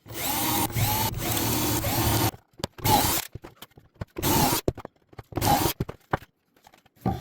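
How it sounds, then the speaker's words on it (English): A power drill boring pocket holes into wooden shelf boards for a corner plant shelf, a long loud whirring run followed by several shorter separate bursts with quiet pauses between, close up and without speech. "we got all the pocket holes drilled in here"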